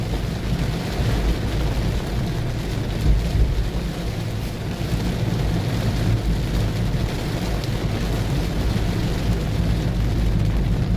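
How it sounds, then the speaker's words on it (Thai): Dense, steady downpour of heavy early-morning rain in Sangkha, Surin, Thailand roars continuously with low rumbling beneath, loud and unbroken throughout, no voices. "ฝนตกแรงมาครับผม"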